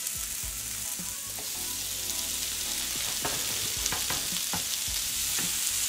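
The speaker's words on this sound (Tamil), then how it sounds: "இந்த வெங்காயம் கூட ஒரு 2-3 மினிட்ஸ் வதங்கினா போதும்" Onions sautéing in a pan for capsicum butter masala, a continuous bright sizzle with repeated scraping strokes of a spoon, close and steady throughout.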